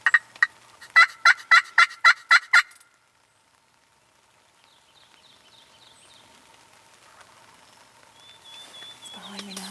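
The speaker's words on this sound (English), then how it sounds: "there's a turkey. There's one gobbling clear over there." Wild turkey gobbling in a rainy Pennsylvania woods: a rapid string of about eight sharp gobble notes, clear but with some distance, then near silence with soft rain patter and faint bird calls.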